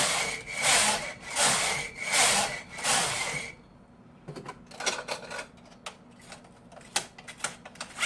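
Knitting machine carriage swept back and forth knitting rows for an edging, a rhythmic series of loud rasping, rushing passes about a second apart, then quieter clicking and clacking of the mechanism.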